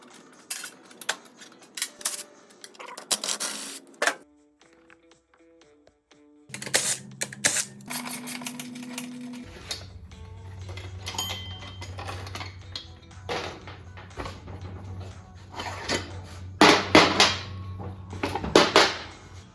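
Metallic clanks and ratchet clicks while loosening the axle and chain to remove the rear wheel of a Yamaha TW200 motorcycle, with scattered sharp taps, brief tonal squeaks, and a low steady hum in the later part.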